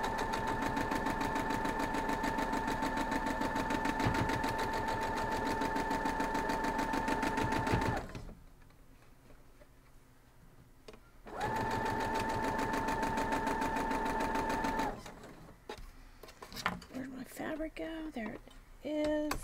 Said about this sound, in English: So let's go sew this up.